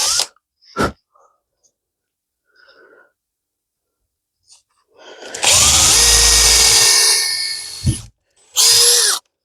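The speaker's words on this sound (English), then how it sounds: "And you want to drill about 2 inches in." A power drill bores about two inches into the centre of a piece of wood in a woodworking project, a loud sustained whine lasting a few seconds, then a short second burst, after scattered small knocks and quiet.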